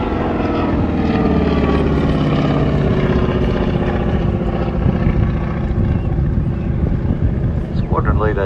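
Jet aircraft manoeuvring overhead at the Newcastle Air Show, a loud continuous roar that swells and rumbles with wind buffeting, staying close and steady throughout with a brief rising whine near the end.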